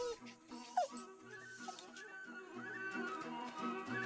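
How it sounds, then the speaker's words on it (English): A dog whimpers in the video game Yaga: a few brief, soft yelps and whines near the start sit over steady game music and ambience. "Pet the dog."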